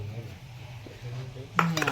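A spoon scrapes and clinks against a metal pot as homemade pickle ingredients are mixed, soft stirring noises over a low hum, then a louder clatter near the end.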